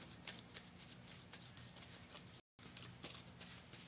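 Tarot cards are shuffled close by in a quiet room, a soft, steady patter of riffling card edges with a brief silent break partway through.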